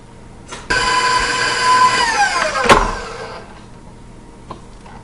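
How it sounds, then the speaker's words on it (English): An electric hand mixer beats sugar for a pumpkin roll filling, its steady motor whine starting abruptly, holding loud for about three seconds, then sliding down in pitch and cutting off, leaving faint room noise. "I'm going to use my beater and I'm going to beat this until it's really well incorporated and fluffy"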